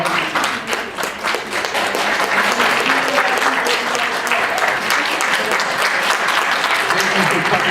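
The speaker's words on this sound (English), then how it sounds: "Can we please give all candidates a round of applause?" Steady, loud audience applause fills the room after a 2016 college mock debate, a continuous wash of clapping hands with no break.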